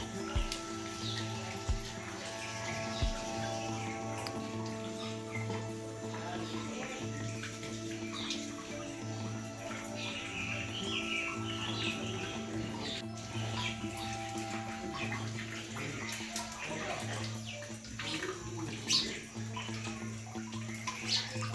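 Steady spring water flows continuously up from the ground at a forest temple, a broad gentle rush with a faint low hum underneath and occasional birds in the background.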